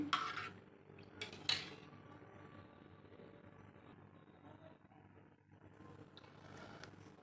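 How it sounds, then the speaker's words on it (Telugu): A spoon stirs ugadi pachadi ingredients with pepper powder in a bowl, giving a few sharp metallic clinks near the start and then softer, steady scraping and mixing sounds. "ఇవన్నీ వేసుకొని మంచిగా కలుపుకున్నామండి"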